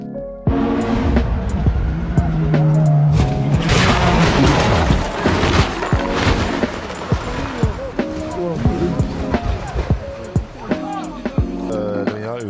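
A car in the Forza racing game, shown with a WRX, takes hard impacts: sharp thuds and a loud crashing burst over steady engine drone, followed by scattered knocks.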